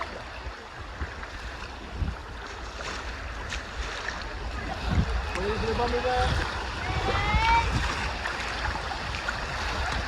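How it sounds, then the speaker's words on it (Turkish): Canoe drifting on river waves in Saklikent Canyon, water churning and splashing steadily around the hull with wind noise, while people talk and laugh over it. "dalgalar var"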